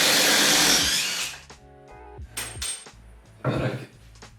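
A power tool in a garage being torn down for a woodshop whirs in short bursts while undoing screws, with a steady motor hum between stops and a few clanks, close and moderately loud.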